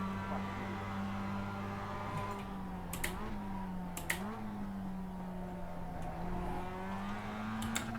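Steady race car engine drone in a racing video game, with shifting pitch, revving up and down continuously, with faint clicking noises layered on top.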